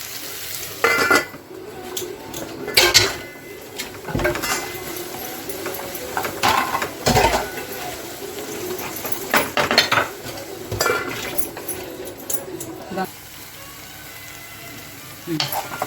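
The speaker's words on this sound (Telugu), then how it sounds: "ముందుగా కట్ చేసి పెట్టుకున్న 2 టమాటా, టమాటా వేసి బాగా ఉడికేదాకా ఒక 5 నిమిషాలు చూడు." Chopped tomatoes sizzling and frying in a pan for a potato curry, with a steady hiss under repeated spoon scrapes and clinks against the metal as they are stirred, close and moderately loud.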